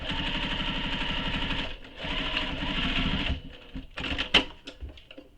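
A sewing machine stitches up a leather satchel pocket with a fast, buzzing mechanical whir that runs steadily, pauses briefly, then resumes. It ends in a few clicks and handling knocks as the stitching stops.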